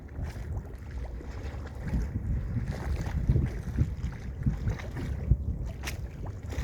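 Tugboat engines churn low on the water, a rough rumbling drone mixed with gusts of wind across the microphone.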